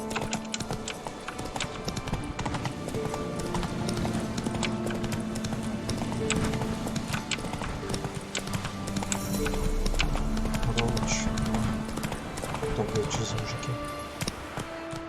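Roach the horse galloping in The Witcher 3: Wild Hunt, with rhythmic clip-clop hoofbeats and a brief whinny running beneath someone talking over game music.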